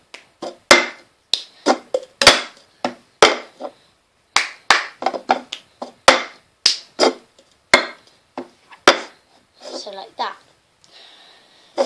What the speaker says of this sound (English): clap, clap, tap, tap, tap, clap, move to the side, clap